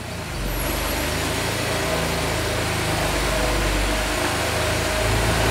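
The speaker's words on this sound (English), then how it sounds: "I love the cold start on a 911." A Porsche 911 997.2 Carrera 4S engine idles at a fast, even rumble close by after a cold start, holding a steady low drone throughout.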